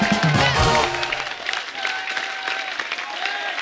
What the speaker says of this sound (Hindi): जोरदार तालियां हमारे स्टार्ट के लिए।